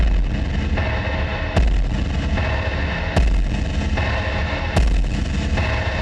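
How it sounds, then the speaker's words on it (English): Distorted, heavily reverberated kick and snare hits boom like explosions in a metal cover of a Devil May Cry 5 song played on 9-string guitars, with four loud evenly spaced blasts over a dense wash of sound. "ran a big reverb through distortion to make this kick and snare sound like musical explosions"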